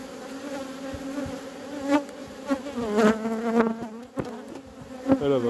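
Honey bees buzz around a hive frame during work on a small colony, a close, dense droning hum with rising and falling swells and occasional louder passes near the microphone.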